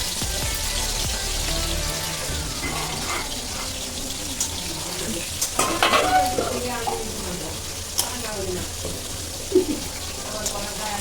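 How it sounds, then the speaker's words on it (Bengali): Potatoes fry in hot oil while being stirred in a home kitchen, a continuous sizzle with scraping and clinking of the utensil, and voices talk over it at times. "আমি এখানে আলুগুলো ভেজে নিচ্ছি পরপর"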